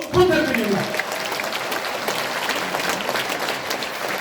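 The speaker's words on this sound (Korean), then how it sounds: "우리 모두를 환영하는 뜨거운 박수 부탁드립니다." Audience applause welcoming residents at a Gyeyang-gu town hall meeting, a steady wash of clapping throughout, with a voice speaking over the first second.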